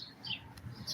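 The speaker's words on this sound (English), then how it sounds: "We have little birds here, apparently. You can hear them." Small birds chirp outdoors on a town main street, faint high tweets recurring through the moment under a steady low background hum.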